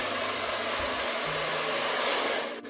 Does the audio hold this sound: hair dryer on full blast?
yes